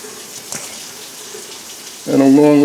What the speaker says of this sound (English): I just turned the water on in the sink so I can wash my hands immediately